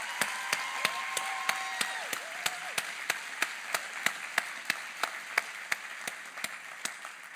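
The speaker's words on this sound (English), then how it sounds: "a big round of applause for Bill Ryan" Sparse, slow clapping for Bill Ryan, heard quietly from a small audience. A few hands beat in an even, regular rhythm, with single distinct claps repeating across the stretch.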